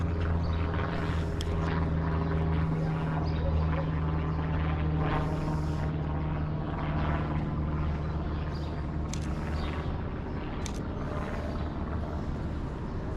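An airplane flies overhead above a Montreal street, giving a steady, loud engine drone with a low hum throughout, while brief rustling and street noises rise and fall over it.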